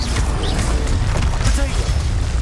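Bombarda and Confringo explosion spells in the video game Hogwarts Legacy make loud booming blasts with whooshes and crashing debris, dense and close, alongside faint talking.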